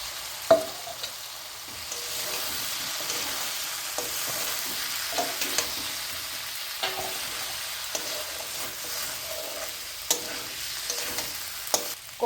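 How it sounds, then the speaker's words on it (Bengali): Fried pointed gourd and potatoes hiss and crackle in hot masala in a pan, with steady close sizzling broken by occasional clinks and scrapes of stirring; no one speaks. "এখন আমি এই ভেজে রাখা পটল আর আলুগুলো দিয়ে দিচ্ছি"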